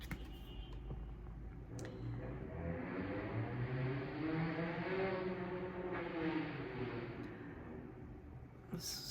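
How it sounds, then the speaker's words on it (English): A car passes outside, a faint, distant rumble that swells to a peak around the middle and then fades, with a few soft ticks around it. "that car sound"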